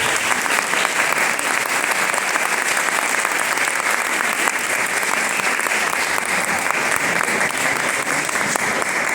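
A packed room at the close of an academic conference session bursts into loud, sustained applause for the team, a thick continuous wash of clapping with no voices on top.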